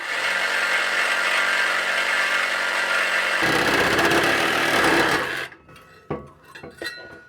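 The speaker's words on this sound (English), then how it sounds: "So we'll get the Sawzall in here, we'll zip that through, and we'll do the same thing on the other side." A Sawzall reciprocating saw cutting an exhaust heat shield on a Ram 1500 exhaust, a loud, steady buzzing rasp that shifts pitch midway, then stops, followed by a few clanks.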